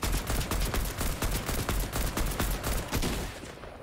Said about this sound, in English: Wow, good shotgun shot, actually.